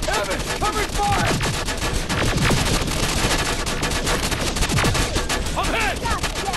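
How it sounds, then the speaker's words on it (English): Rapid bursts of automatic gunfire in the shooter Terminator Resistance, loud and continuous volleys with overlapping shots, shouted voices cutting through the battle. "covering fire!"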